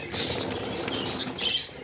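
Caged birds flap their wings in a flurry while being caught, a close, continuous rustling flutter with a few faint chirps.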